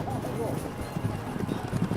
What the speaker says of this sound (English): These are time trials for later races, and the horses don't gallop but trot